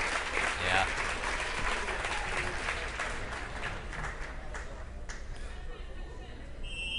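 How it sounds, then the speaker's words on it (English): A crowd at a 2014 high school volleyball game cheers and applauds in a gym, a steady roar of clapping and shouts that gradually thins out under an announcer's voice. "Crowd going nuts as Casey Worsham comes off of the floor."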